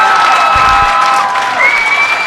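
Home crowd at a collegiate bowling team championship match in Wichita cheering and applauding after a strike, a steady close roar of claps and shouts filling the whole moment with no talk.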